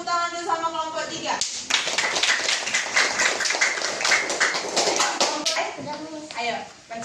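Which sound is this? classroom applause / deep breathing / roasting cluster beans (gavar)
classroom applause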